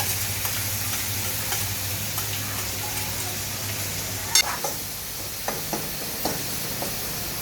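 Garlic and onion sizzling in hot oil in a pan for a veg lasagna red sauce, a steady close crackling hiss with scattered sharp pops and one louder spatter, no talking.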